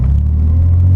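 Nissan 300ZX with its VG30DE V6 rumbling at a steady, deep idle close by, a constant low drone with no revving or speech.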